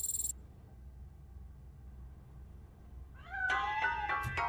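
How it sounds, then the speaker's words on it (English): A cat hiding inside a piano lets out a faint, muffled meow after a quiet stretch, a short drawn-out cry rising and falling near the end. "That cat must be hiding inside."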